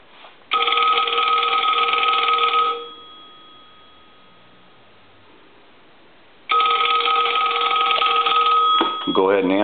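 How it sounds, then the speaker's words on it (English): A Western Electric 223G payphone bell, freshly repaired and converted, rings in two loud sustained bursts separated by a quiet gap, with a brief voice at the very end. "I'm going to go ahead and ring the telephone. I'll let that go a couple times."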